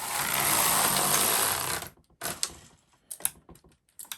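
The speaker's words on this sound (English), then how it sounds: "I'm just going to knit about 40 rows of plain knitting before I begin my motif" A Knitmaster MK-70/HK-160 knitting machine knits plain rows: a loud, close carriage pass rasps and whirs for nearly two seconds, then short clattering bursts and clicks follow with gaps.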